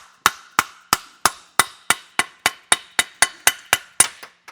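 A 5/8 socket on an extension struck hard and repeatedly to knock plastic bushings out of a bicycle brake arm pivot, about fourteen sharp metallic hammer blows at an even brisk rhythm, close and loud with no talk.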